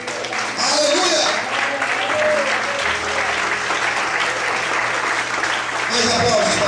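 Sustained applause from a church congregation, loud and steady for several seconds with crowd noise and occasional voices mixed in.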